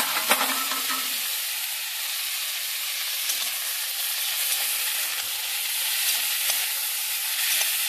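A pan of food sizzles steadily with a broad, close hiss, with occasional faint spatula taps and stirring scrapes over eight seconds and no talking.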